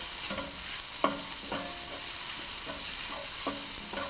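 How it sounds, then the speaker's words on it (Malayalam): Onions with green chillies and curry leaves sauté in a pan for fish masala, a soft constant sizzle broken by a few sharp spoon-against-pan knocks at uneven intervals, close by and without speech. "ഇനി ഇതിലോട്ട് എടുത്തു വച്ചിരിക്കുന്ന പച്ചമുളക്, കറിവേപ്പില എന്നിവ ചേർത്ത് വഴറ്റുക"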